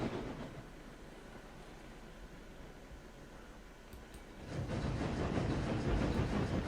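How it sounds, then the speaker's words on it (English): Steam locomotive in RailRoads Online pulling a train under power, a steady rumbling chuff and rolling rail noise that swells louder partway through, continuous with no voices. "Pull under power here. Just to keep the train as stretched out as we can."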